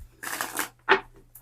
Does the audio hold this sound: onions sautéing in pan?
no